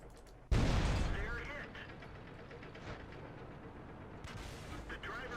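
A World of Tanks hit from an Object 704 tank destroyer lands as a single sudden, heavy boom near the start, its rumble trailing off into steady engine and battle noise, with a voice talking over it.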